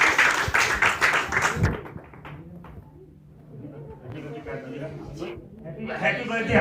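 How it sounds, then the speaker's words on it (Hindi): Congregation at a church Christmas celebration in India clapping for a birthday, a quick run of hand claps at first that fades, then scattered clapping with voices returning later. "हम सब तालियां बजाकर उनको खुश करेंगे"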